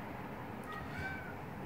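A female cat gives a couple of soft, high, drawn-out meows indoors, faint over a steady background hiss.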